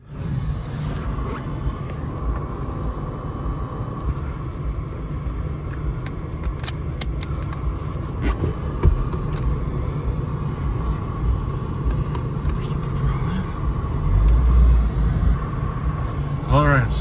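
A 4x4 truck locked in four-wheel drive idles and creeps through a snowbank, a low steady engine rumble from inside the cab with occasional clicks and bumps, while someone talks over it.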